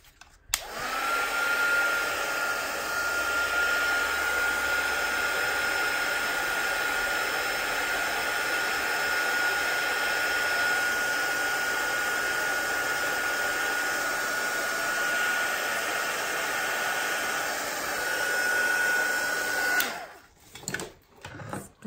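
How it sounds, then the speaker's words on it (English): A hair dryer blows steadily to dry the background of a watercolour winter tree painting, a loud continuous whooshing roar held close for about twenty seconds before cutting off abruptly. "And now I'm just going to dry the background really quick."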